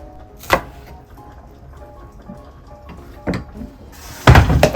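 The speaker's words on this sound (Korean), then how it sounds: "천천히 차근차근 썰어준다" A few sharp knife chops through an onion on a cutting board in a home kitchen, spaced unevenly, with a louder cluster of cuts at the end over faint kitchen background noise.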